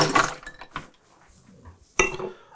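Ice cubes and water clink against a martini glass as it is chilled for a gin and orange marmalade cocktail, giving a couple of close, bright rattles with a quiet pause between them.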